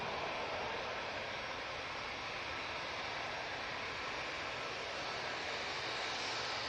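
A jet airliner departs Manchester Airport with a loud, steady broadband roar that fills the whole stretch without a break, the engines holding constant and close with no talk over them.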